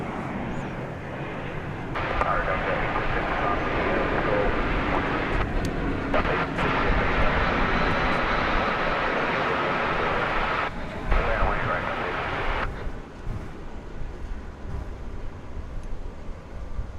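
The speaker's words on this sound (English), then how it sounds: "It's coming in from Denver. It's an Airbus A321." American Airlines Airbus A321 arriving from Denver and landing at DFW airport at night, a distant roar of jet engines building and holding, with some faint background crackle.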